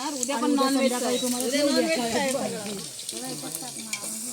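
Hot-oil tempering for a mixed vegetable dish sizzles steadily at a large outdoor communal meal while people talk close by, the crackle continuing on its own once the voices fade.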